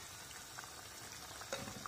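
Water simmers in a pan for a fish curry flavoured with orange peel, giving a faint, steady bubbling hiss with a few small pops and no talk.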